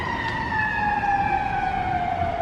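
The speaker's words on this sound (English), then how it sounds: "Oh, we have sirens." Emergency vehicle sirens wailing downtown across a river, a steady tone gliding slowly downward, heard at moderate distance over a low city rumble.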